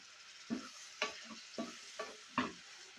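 Tomato pieces cooking with onions in a pan, heard as a quiet background sizzle broken by about five short scraping or stirring strokes at a roughly even pace, close and without talk.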